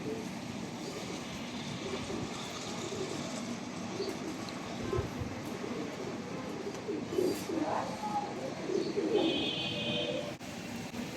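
Teddy pigeons, including a female, coo softly and intermittently against a steady low background hum, the calls faint and scattered rather than prominent.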